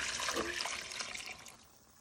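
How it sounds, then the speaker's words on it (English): Chicken stock poured into a pot of smoked haddock chowder, a close, splashing liquid rush that gradually fades over two seconds. "And you also want to pour in your chicken stock,"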